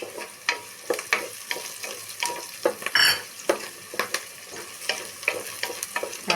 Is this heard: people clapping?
no